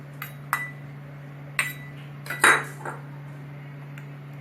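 A spoon knocks against a bowl while chopped onion and tomato are mixed for a bread pizza topping, several sharp isolated clinks spaced irregularly over a quiet steady hum, no talk.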